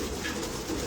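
Domestic pigeons coo softly in a short, continuous stretch, partly buried in dense, noisy background sound.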